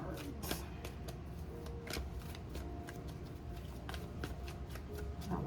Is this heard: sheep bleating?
no